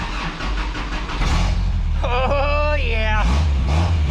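A 1967 Toyota Stout truck engine cranks, catches and keeps running with a steady, loud idle, while a person calls out and whistly tones sweep over the engine midway.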